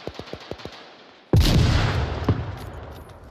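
Gunfire in the VR shooter Onward: a quick run of five or six separate shots, then a sudden loud, sustained burst of nearer fire that rings on with a few more cracks.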